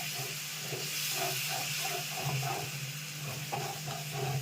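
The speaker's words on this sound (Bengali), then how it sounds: "জল দিয়ে এবার গ্যাস বাড়িয়ে দিতে হবে, দিয়ে আস্তে করে নাড়া দিতে হবে।" Water poured into a hot pan of masala for matar paneer sets off a steady, soft hiss and sizzle, with faint stirring scrapes under it and no talk.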